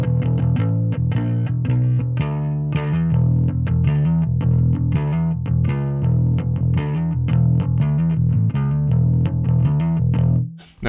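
A driven bass line with power amp distortion from a cranked volume plays continuously with steady plucked notes, a warm gritty edge on the tone, close and fairly loud.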